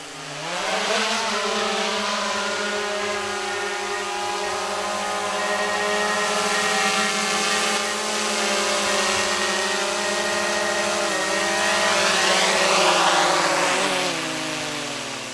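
A drone flies overhead at an off-grid desert campsite in Arizona, giving a steady, close, loud buzzing whine that holds for the whole stretch with slight shifts in pitch and no voices.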